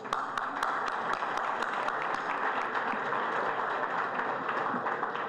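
An audience at a conference breakfast on the strategic use of statistics applauds a guest speaker, a steady sustained clapping from the crowd that stays even throughout, with a few sharp individual claps standing out.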